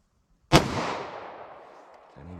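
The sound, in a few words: gunshot from a 5.3-inch Glock firing .45 ACP+P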